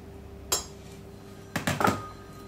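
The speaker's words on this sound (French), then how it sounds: "il faut mettre le beurre fondu dans le robot avec le sucre" Melted butter and sugar going into a food processor bowl, a sharp clink of a utensil or container against the bowl, then a quick cluster of knocks and scrapes, close with no talk.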